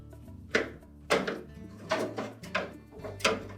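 Whirlpool refrigerator door being lifted off its hinge, giving five separate dull knocks and thunks of plastic and metal at a close distance, spaced roughly half a second to a second apart.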